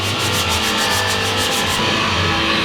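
Rhythmic back-and-forth sanding of filled drywall and plywood holes during window prep in a van conversion, close and steady strokes for about two seconds before settling into a duller scraping hiss.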